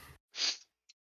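A single short sneeze, a quick sharp burst standing alone and fairly close, after a brief breathy intake and followed by a tiny click.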